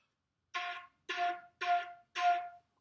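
A flute plays four quarter notes, each started with a crisp tongued attack. The detached notes are evenly spaced, clear and close, with silence between each one.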